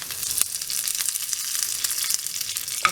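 Urad dal tempering fries in hot oil for curd rice, giving a steady close-up sizzle with small crackles and pops throughout and no voices.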